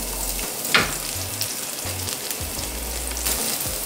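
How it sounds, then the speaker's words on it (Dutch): Courgette dropped into hot oil in a pan, giving a steady close sizzle and crackle with a few light clatters of the pan and utensil, no voices. "Olie. Doe ik de courgette in de pan."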